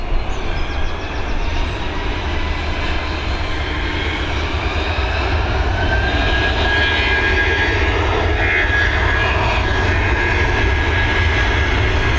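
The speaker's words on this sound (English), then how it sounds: "this Airbus A320 heading over to London Heathrow" An Airbus A320 jet takes off from runway 28L at Dublin Airport in the evening, bound for London Heathrow; a loud, steady engine roar holds throughout with a rising whine over it and no talk.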